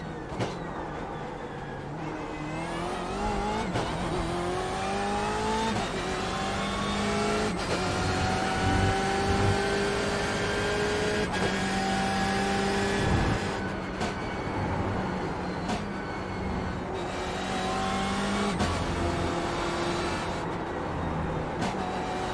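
BMW M8 GTE race car engine in the iRacing sim at Circuit of the Americas, a loud continuous roar rising in pitch through the gears with brief lifts and shifts, steady and close throughout.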